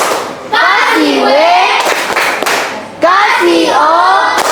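Students in a classroom shout loud unison chants, punctuated by a few sharp group hand claps landing between the drawn-out voices.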